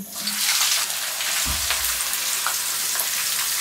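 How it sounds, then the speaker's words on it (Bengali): Chopped onions and spices frying in a pan for a beef curry, a steady broadband sizzle with a few soft stirring clatters partway through. "পেঁয়াজগুলোর কালার পরিবর্তন হওয়া পর্যন্ত আমরা এগুলোকে একটু ভেজে নিব।"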